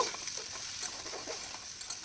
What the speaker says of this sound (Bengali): আরও দু তিন মিনিটের মতো একটু ভেজে নেব